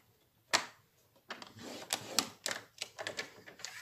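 A scoring tool marks fold creases in cardstock for a scrapbook accordion card: one sharp snap, then a run of close, dry scraping and tapping strokes with no voice.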